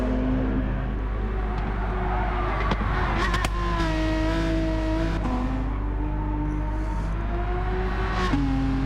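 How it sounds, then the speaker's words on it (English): A Mercedes AMG Group 3 race car engine in Gran Turismo 7 revs and shifts through gears, its loud rising and falling growl with brief gear-change dips and crackles at a race at Bathurst, with no voices. "Unmistakable sound of the AMGs again. They sound really good."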